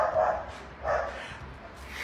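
A dog barks twice nearby in sharp, separate woofs about half a second apart, followed by fainter yips, over a low outdoor background.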